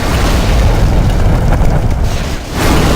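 A fire bomb explodes in Demon's Souls, in the Boletarian Palace, as a loud, deep, rumbling boom that holds steady for about three seconds with a brief dip near the end.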